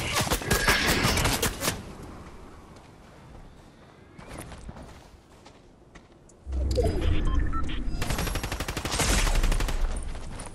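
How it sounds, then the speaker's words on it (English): Fortnite gunfire crackles in dense bursts, loud at the start and again in the second half, with a quieter stretch of scattered shots and movement between. "I'm being shot."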